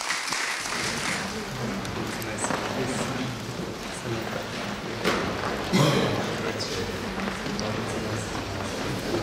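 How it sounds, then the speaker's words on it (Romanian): A crowd applauds at an honorary citizen ceremony in Turda, Romania, with sustained, rain-like clapping that holds at a moderate level and swells briefly near the middle. "Să-l aplaudăm încă o dată"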